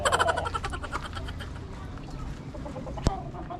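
A fighting rooster clucks and crows nearby in a rapid, harsh series of calls that fades to softer clucks, with a sharp knock near the end and people talking in the background.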